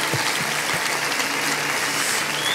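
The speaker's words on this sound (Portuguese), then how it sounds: "Dê um aplauso ao Senhor." A church congregation applauds during a worship service, producing a dense, even roar of clapping that stays steady and fairly loud from start to finish.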